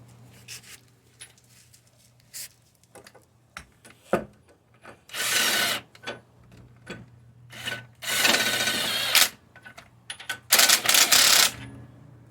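Leaf spring bolts on a 1996 Jeep Cherokee XJ are tightened, with scattered metallic clicks and taps followed by several long, loud, harsh ratcheting bursts at close range over a faint steady hum, and no one speaks.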